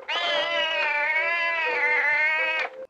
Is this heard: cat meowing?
yes